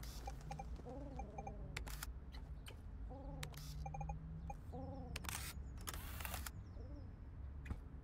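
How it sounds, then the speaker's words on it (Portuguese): A pigeon in the video game TOEM gives repeated soft cooing calls at a steady pace, with sharp camera-shutter clicks and a quiet ambient game background in between. "tem um pombo"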